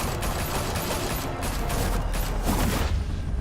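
Heavy, continuous volley of gunfire in the game Batman The Telltale Series, a dense, loud barrage of overlapping shots with a few sharper cracks, fading near the end.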